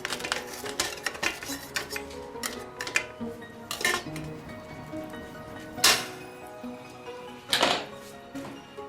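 Metal dish and tray clink and clatter while a kunefe is flipped during stovetop cooking, with scattered light taps and a few sharper knocks, close and moderately loud.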